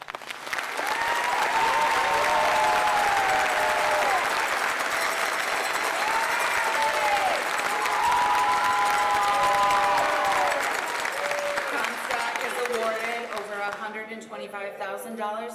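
Graduation ceremony applause for scholarship students at a high school commencement: a large crowd claps steadily and loudly for about twelve seconds, with voices heard faintly beneath it, then the clapping dies away as someone speaks.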